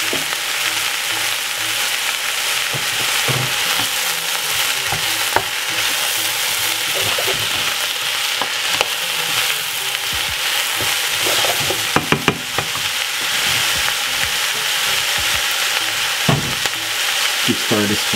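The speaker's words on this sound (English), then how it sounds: "Keep stirring this for about 5 minutes." Vegetables and mushrooms stir-fried in a pan with vegan seasoning, giving steady loud sizzling throughout with the clack and scrape of stirring, close up and without talk.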